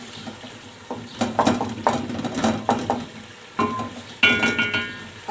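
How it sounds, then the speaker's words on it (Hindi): Chillies frying in oil in a pan, with a soft steady sizzle broken by repeated scraping stirs and clinks of a utensil against the pan, fairly close and moderately loud, with no talking. "इनको 1 से 2 मिनट के लिए मिर्चों को फ्राई कर लेते हैं।"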